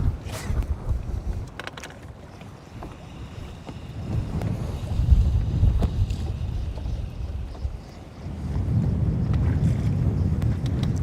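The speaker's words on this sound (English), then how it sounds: "It is very breezy right here." Breezy wind buffets the microphone on a lake during bass fishing, a steady low rumble that swells and eases over the span with faint water lapping beneath, and no voices.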